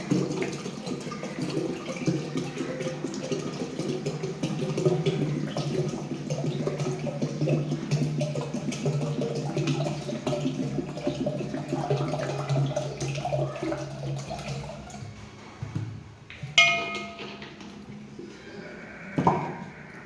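Water pours and splashes steadily into a cooking pot to start rice in a home kitchen, a continuous moderate gurgle with a few louder clanks near the end.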